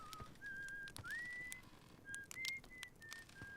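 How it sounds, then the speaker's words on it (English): A character sitting in a chair in the video game Outer Wilds whistles a slow, wandering tune of clear, sustained notes, quiet and somewhat distant over soft ambient noise, with a few faint clicks in between. "you're just sitting in a chair and whistling"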